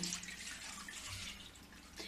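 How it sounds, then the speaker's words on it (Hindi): Water poured into a pan before adding milk on a home kitchen stove, a steady close splashing trickle for a couple of seconds, with no talking. "पानी इसलिए डाली हूँ कि मेरा दूध चिपकेगी नहीं।"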